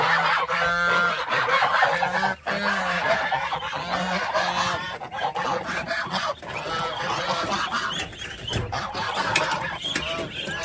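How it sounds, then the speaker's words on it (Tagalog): Busy barnyard fowl noise with repeated honking calls from geese mixed among clucking birds, fairly loud and continuous throughout. "Saka yung gansa."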